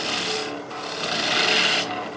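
Skew chisel shearing across spinning figured maple on a wood lathe, a steady loud hiss and rasp with brief dips where the cut lifts off, no talking.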